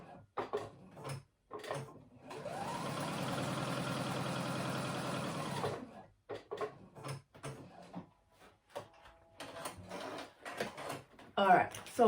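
A sewing machine stitching around the edges of a Duke jacket whirs in a steady, moderately loud burst lasting a few seconds, set between stretches of quiet talking and short handling noises.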